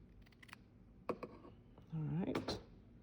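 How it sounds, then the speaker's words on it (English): A couple of brief, crisp snips from scissors cutting through fabric binding during a sewing job, with a voice speaking between the cuts. "now I'm gonna bring in my scissors and I'm gonna cut that"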